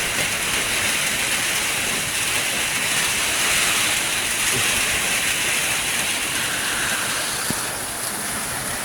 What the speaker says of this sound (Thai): ฝนตกก็ค่อนข้างที่จะหนักพอสมควรนะครับ